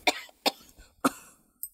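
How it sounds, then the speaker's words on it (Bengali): A person with an irritated, tickly throat coughs in three sharp, dry bursts spaced about half a second apart, close and clear with near silence between them and a faint tail at the end. "না, কাশিটা তো ভালো শোনায় না।"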